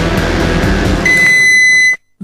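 A microwave oven gives a sustained high electronic beep tone lasting about a second over a running hum, followed by an abrupt cutoff and near silence.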